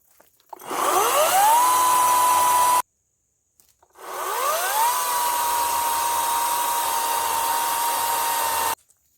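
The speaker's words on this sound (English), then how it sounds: "Now we can get some closer and show you how this chainsaw cuts." Two bursts of a small chainsaw revving up from idle to a high, steady whine while cutting on a wooded trail, each lasting a few seconds with a brief silence between them.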